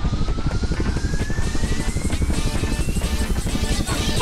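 A cartoon airplane loaded with bombs drones steadily overhead, a loud continuous engine roar with a faint rising whine running through it, dense and unbroken from start to finish.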